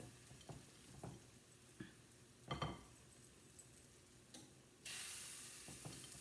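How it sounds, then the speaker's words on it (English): Meatballs sizzle steadily in a hot pan, with scattered clinks and scrapes of utensils and a louder hiss near the end. "Hear that sizzling because that pan is hot."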